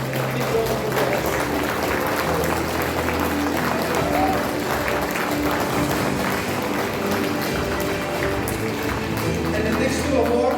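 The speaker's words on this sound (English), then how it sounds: "Please give a big round of applause." Sustained applause from an audience at the TAFMA Excellence Awards 2025 ceremony, a steady dense clapping that runs for about ten seconds, with faint tonal sound beneath.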